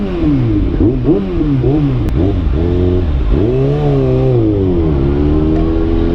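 Motorcycle engine revving and shifting on a congested road, a continuous loud rising and falling drone of changing pitch from a big bike in traffic, steady throughout with no talk.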